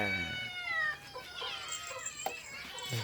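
A cat meows repeatedly, close and fairly loud, a run of drawn-out, wavering cries followed by shorter calls, with scattered clatter and faint background sounds.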